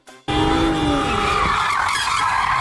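Tires squeal loudly and continuously as a car drifts sideways through an intersection, the skid starting abruptly and holding strong for a couple of seconds over engine roar.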